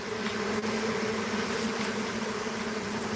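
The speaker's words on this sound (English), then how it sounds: "Listen to these bees." A swarm of honey bees hanging on a tree branch during capture, a dense, steady buzzing drone that fills the whole span, close and constant with no talk.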